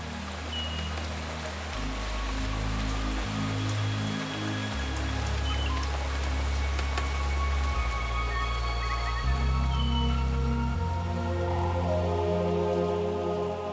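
The first rains of the season fall on a lagoon island, a steady patter of drops on surfaces under low humming tones that shift now and then, continuous and fairly loud.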